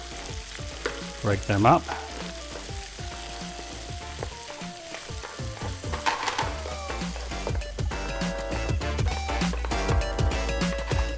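Onions for beef stroganoff hit a hot pan and fry with a rising sizzle, punctuated by scraping and clacks of a utensil stirring and breaking them up, with brief speech.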